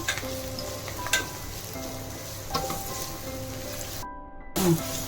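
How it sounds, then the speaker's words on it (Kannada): Ginger garlic paste, a spoonful, frying and roasting in a hot pan for a drumstick fry, with a steady close sizzle, a few stirring scrapes, and a brief quiet gap near the end before the sizzling returns. "ಶುಂಠಿ ಬೆಳ್ಳುಳ್ಳಿ ಪೇಸ್ಟ್ ಹಾಕ್ತಾ ಇದ್ದೀನಿ 1 ಸ್ಪೂನು. ಅದು ಹಸಿ ವಾಸನೆ ಹೋಗಿ ಚೆನ್ನಾಗಿ ರೋಸ್ಟ್ ಆಗಬೇಕು."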